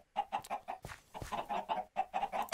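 Minecraft chickens clucking in a video game, a rapid run of short, bright clucks in quick bursts with a brief pause midway, close and fairly loud with no talking.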